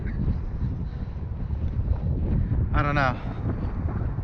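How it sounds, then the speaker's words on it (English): Strong wind gusts buffet the microphone outdoors during a wind test of a Wingsland X1 FPV micro racing drone, a steady broadband roar running throughout with someone talking over it and a brief whine near the end. "too windy for Wingsland."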